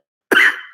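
A man who is sick gives a single short, sharp cough, close and loud, alone with no talk around it.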